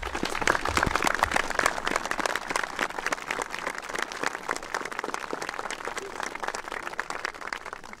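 Audience applauding the designers and builders of a newly completed facility at a dedication ceremony: sustained, dense clapping from a sizable crowd, strongest at first and holding steadily.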